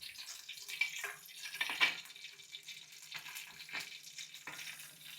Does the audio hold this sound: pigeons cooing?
no